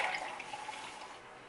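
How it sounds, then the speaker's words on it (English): Iced-free Starbucks coffee pouring into a glass, a close, steady liquid stream that gradually fades over a second and a half. "I'm gonna go ahead and pour the Starbucks"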